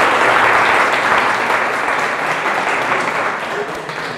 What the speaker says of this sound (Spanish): vamos a darle un fuerte aplauso para recibir